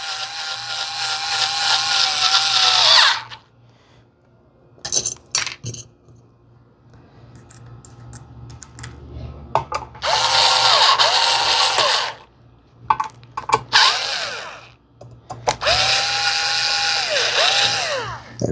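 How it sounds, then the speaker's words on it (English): A power drill drives screws into a 52-inch Hampton Bay Nassau ceiling fan, with three loud whirring bursts of several seconds each and rising and falling pitch, separated by clicks and small metallic handling noises. "And then we'll put these 6 screws in."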